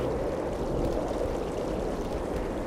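A stream flows in the video game ARK Genesis, making a steady, continuous rushing and gurgling wash of water close by, with no voices.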